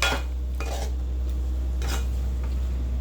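A spoon scrapes and clinks against a pot while chicken is stirred with gongura leaves, a few short metallic knocks over a steady low hum, with no talking.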